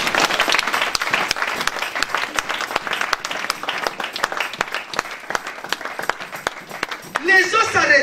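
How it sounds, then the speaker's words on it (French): A church congregation applauds and claps steadily with dense, lively crowd clapping that swells near the end, with voices cheering over it. "Est-ce que vous pouvez pas acclamer ce Dieu-là?"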